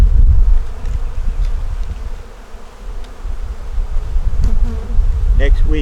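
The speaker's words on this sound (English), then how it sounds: "well, it's got bees on it." A steady, dense buzz of many honeybees close by on a hive frame, rising and falling slightly in loudness throughout.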